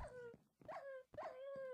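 Dogs in the modded Minecraft game Tekkit give three short, whining yelps in a row, each a rising then falling cry with brief gaps between, fairly close and clear.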